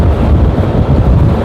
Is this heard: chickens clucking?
no